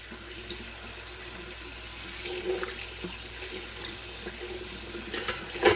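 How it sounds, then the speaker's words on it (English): Tap water runs steadily into a bowl of rice being rinsed in a kitchen sink, a continuous splashing hiss with soft swirling sounds and a few louder splashes near the end. "I actually run the water through it to get some of that starchiness out"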